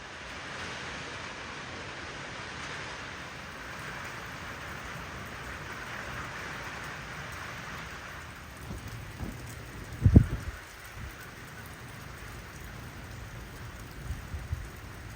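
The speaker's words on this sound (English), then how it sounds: "I got a metal roof and it's raining." Steady broadband hiss of rain falling on a metal roof on a cold day, constant throughout, with a brief louder knock or thump near the end and a few faint taps after.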